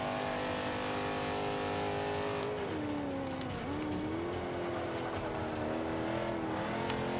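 A 1970 Dodge Challenger in Forza 5 roars loudly and continuously, its engine note dipping and climbing again as it shifts and revs hard at speed, with no talk over it.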